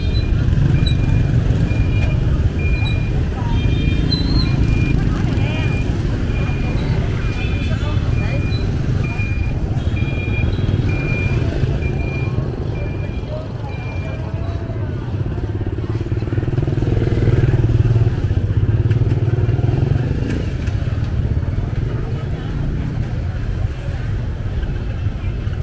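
Motorbikes and other traffic rumble steadily along a busy Tết market street in Long Xuyên, Vietnam, with engines droning close by, occasional beeps and horn tones, and voices talking over the din.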